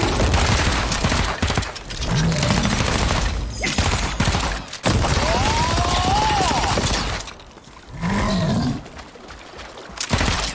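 Automatic and rapid gunfire from guns in a fantasy MMO video game, loud and continuous in dense bursts, with brief gaps and game creature roars mixed in.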